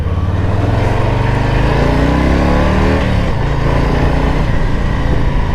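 A 2021 Harley-Davidson Low Rider S motorcycle rides at speed, its engine a steady, loud, continuous rumble with shifting harmonics as the revs rise and fall, accompanied by heavy wind roar throughout.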